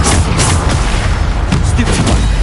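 A Bombarda spell explosion in Hogwarts Legacy, part of a continuous, loud, dense wash of booming blasts and rumble with no gaps, like a steady barrage of spell impacts.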